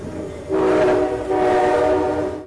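At Lahore railway station, a departing train sounds a loud, sustained horn in two long blasts, close by and strong, with no voices over it.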